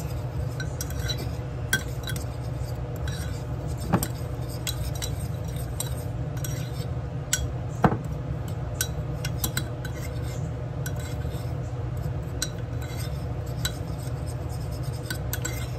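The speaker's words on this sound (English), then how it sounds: "Give that a mix." Metal cutlery stirs a smoked-paprika dinner mixture in a bowl, giving a steady close scraping and swishing with scattered light clinks against the sides.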